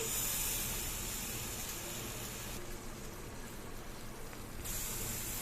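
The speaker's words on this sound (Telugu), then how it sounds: "బటర్ వేస్తున్నాం అండి" Butter melts and sizzles in a pan while chicken tandoori is cooked, a soft continuous hiss at low level that thins briefly midway, then returns.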